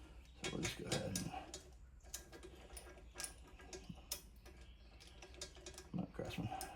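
A wrench works 11 mm bolts loose on a Delta scroll saw during teardown: quiet, close metallic ratcheting clicks in short irregular bursts with brief pauses, with light handling noise between.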